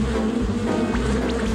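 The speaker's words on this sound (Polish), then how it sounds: "Skąd tu tyle pszczół?" Many bees swarm around a bunch of flowers, their dense droning buzz close and loud, with wingbeat pitches swooping as individuals pass.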